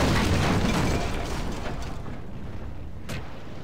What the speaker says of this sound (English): How fast can they fire these gosh damn catapults?